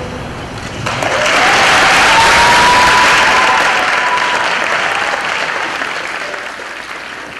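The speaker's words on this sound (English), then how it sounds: "Please join me in giving us a round of applause." A school assembly audience applauds, building quickly into steady, dense clapping that holds and then slowly tapers off.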